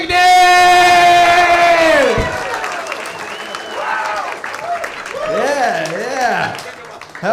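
A comedy club crowd at a funniest-person contest final cheers, whoops and applauds loudly and continuously, with a shouting voice over the noise as the clapping carries on.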